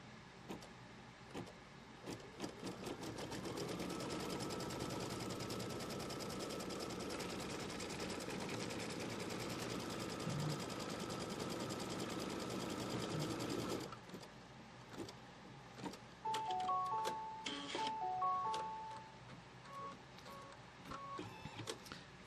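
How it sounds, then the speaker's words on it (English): A machine embroidery sewing machine tacks down quilt fabric with a fast, steady whirring stitch that runs for about eleven seconds, then stops and gives way to brief beeps and lighter mechanical clicks. "Let's tack this fabric down."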